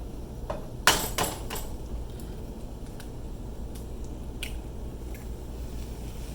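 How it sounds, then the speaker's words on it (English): Eggs cracked against and dropped onto kale cooking in a pan: a couple of sharp cracking taps, a wet squish, then faint scattered ticks over a low steady sizzle and kitchen hum. "Just crack them right on top."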